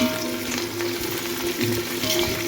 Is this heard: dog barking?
no